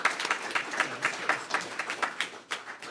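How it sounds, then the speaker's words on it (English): A lecture audience applauds a speaker at a talk on forests: dense, fast hand clapping from many people, fairly close and sustained for the whole stretch. "Give a round of applause to Sara Hasselbach, please."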